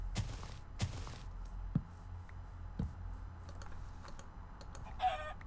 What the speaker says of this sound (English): Hey, look, chicken.